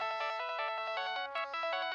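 Cartoon phone ringtone from a Shin Chan episode dubbed in Hindi, a bright electronic melody of rapid repeating beeping notes that rings continuously and loudly on its own for two seconds.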